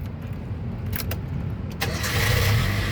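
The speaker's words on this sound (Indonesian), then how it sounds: "Nah, berikutnya kita nyalakan mobil." A 2005 Nissan Terrano 2.4 Spirit S3 with a manual gearbox starts up: a short crank catches at once and settles into a loud, steady idle that fills the rest of the clip.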